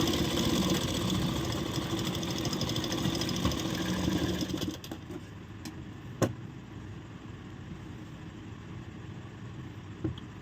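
Sewing machine stitching the bottom part of a blouse, a dense steady mechanical whir running continuously for several seconds before stopping, followed by quieter handling clicks.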